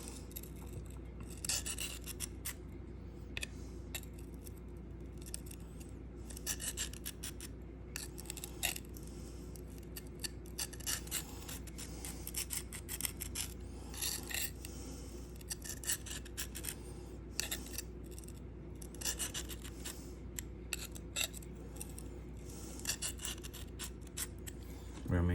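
An S110V steel knife blade drawn repeatedly across a Sharpal field sharpener, producing quiet, rapid rasping strokes in irregular bursts over a low steady hum, close and faint, with no talking.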